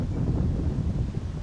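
Wind buffeting the microphone on an open golf course, a steady low roar with no speech.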